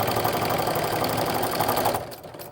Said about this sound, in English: now I'm ready to stitch down both sides to get our sort of framing pieces on